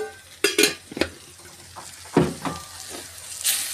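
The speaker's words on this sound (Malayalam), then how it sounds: "ഇതിട്ട് നന്നായിട്ട് ഇളക്കണം" Chili powder and coriander powder being stirred in a pan for a dry fish curry: a spoon scrapes and clinks against the metal in a few irregular strokes, with a soft sizzle underneath, close and moderately loud.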